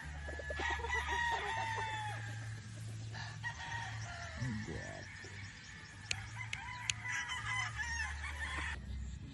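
Boston White gamefowl roosters crowing repeatedly, with several long crows overlapping and clucking in between, close and loud over a steady low background hum.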